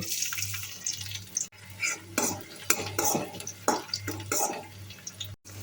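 Thinly sliced onions and bay leaves frying in hot oil in a pan with a steady background sizzle, broken by repeated scraping and stirring strokes of a utensil against the metal.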